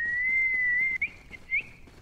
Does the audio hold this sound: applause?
no